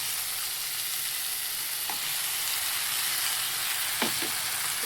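Fish roe frying with softened onions in a pan, a steady loud sizzle throughout with a couple of brief scraping stirs near the end.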